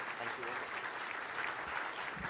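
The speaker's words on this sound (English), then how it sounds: "So giant round of applause to all of them" Dense, continuous applause from an audience at a charity awards gathering, a broad steady wash of many hands clapping at once, loud and sustained for the whole stretch.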